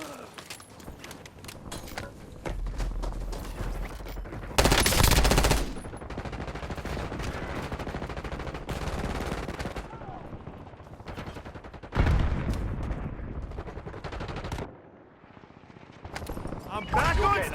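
Call of Duty gunfire erupts in repeated bursts of automatic fire and sharp single shots, loud and close, with brief lulls between volleys and game voices calling out over the action.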